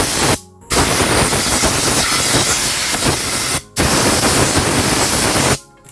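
A spray can of cleaner blasts the oil filter screen of a Honda Revo 110 with a dual clutch. Loud, close hissing comes in three long bursts separated by brief silences, with no talk.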